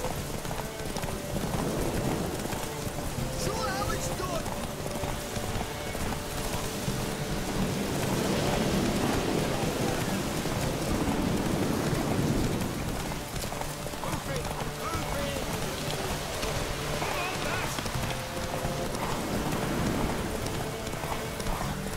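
Horse hooves clip-clop steadily through a dense game soundscape in The Witcher 3, a continuous trotting rhythm mixed with rain and ambience while characters talk over it.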